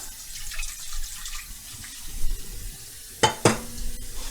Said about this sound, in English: You want to make sure you rinse them very well so they don't get stuck together.